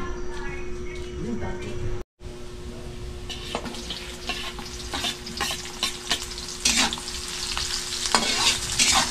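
Garlic, onion and ginger sautéing in hot cooking oil, a steady broadband sizzle with frequent scraping stir strokes, briefly cut off near the start, with a voice speaking over it.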